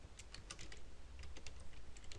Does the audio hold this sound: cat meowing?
no